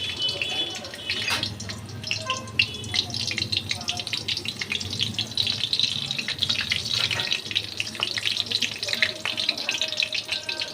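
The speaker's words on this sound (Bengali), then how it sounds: "এই যে কড়াইতে আমি কালি জিরে, কাঁচা লঙ্কা ফোড়নে দিচ্ছি।" Nigella seeds and green chilli temper in hot oil in a kadai, a steady crackling sizzle with sharp spits and pops close by, while a person talks over it.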